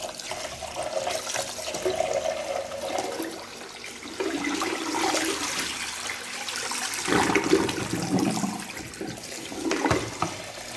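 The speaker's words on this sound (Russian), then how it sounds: "7 раз помыла я рис" Running water splashes and swishes steadily, with sloshing surges as rice is rinsed and swirled, loudest toward the end.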